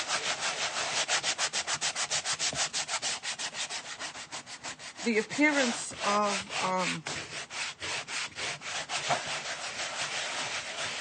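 Rapid, steady back-and-forth scratching of sandpaper on wood continues throughout, with a voice briefly speaking over the rubbing midway.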